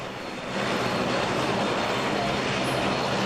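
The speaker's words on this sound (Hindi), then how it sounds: "ये वो तस्वीरें हैं जब विमान को वाटर कैनन सैल्यूट दिया गया।" An airplane at an airport receives a water cannon salute, a broad, loud, continuous roar of engine noise and rushing spray that swells in after half a second and holds steady.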